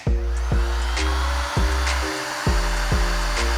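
A heat gun blows hot air across vinyl car wrap, a loud close whirring drone whose pitch rises and drops in regular pulses about every half second as it is moved.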